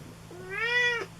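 A black cat lets out a single clear, rising-and-falling meow, close and loud, with a quiet indoor room hum underneath.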